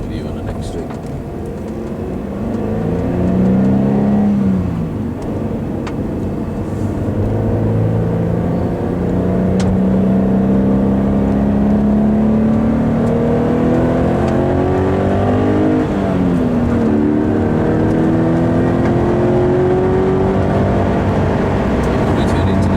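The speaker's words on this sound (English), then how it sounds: "We'll drive up to the circuit." Car driving up to a circuit chicane marked with cones during a braking lesson. The engine hums steadily and rises and falls in pitch through the gears, moderately loud and close, with voices talking throughout.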